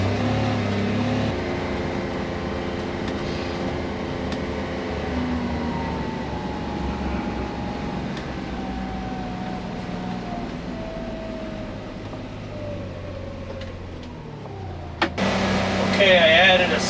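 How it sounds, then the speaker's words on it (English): A UTV's engine runs at a steady idle with the power steering on full, giving a low, continuous rumble and a faint whine that falls slowly in pitch before a louder burst of noise near the end. "Let's check this power steering out. I got it on full blast."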